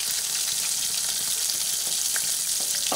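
Ginger frying in a pan with cumin and coriander powder over a low gas flame, giving a steady, dense close sizzle with occasional soft stirring clicks.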